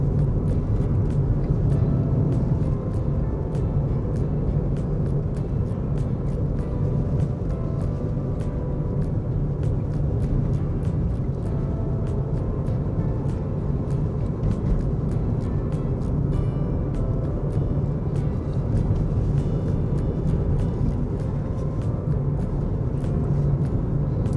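A car cruises along a road near New Plymouth, a continuous low engine and tyre rumble from inside the cabin with faint regular ticking, steady throughout with no talk.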